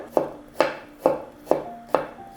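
Onion being chopped with a knife on a board, five sharp regular chops roughly every half second, close up and alone with no voices.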